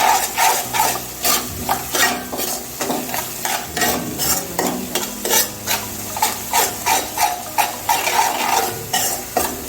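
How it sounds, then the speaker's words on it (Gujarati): Spiced taco filling stirred in a pan with rhythmic scraping strokes of a spoon against the metal and a light sizzle underneath, steady and close. "પછી બરાબર મિક્સ કરશું।"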